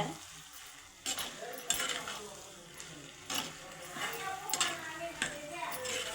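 Okra sautéing in oil in a pan for a tamarind curry, a soft sizzle broken by several sharp scraping stirs of a spatula, fairly quiet and close.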